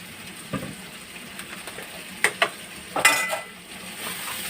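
Turmeric, chili powder and biryani masala fry in a pan for egg biryani: a soft, steady sizzle, with a few sharp metallic clinks and scrapes of a spoon against the pan.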